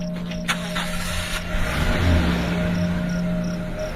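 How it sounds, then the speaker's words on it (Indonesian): A car's engine is started with a short click and crank, then settles into a steady low idle hum that swells slightly, close and continuous with a faint whine over it. "menyalakan mesin"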